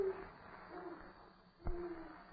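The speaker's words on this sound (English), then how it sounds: "Hey, that's a very fine sounding owl." An owl hoots faintly at night, a soft low call rising briefly out of hiss and murmur, with no talk over it.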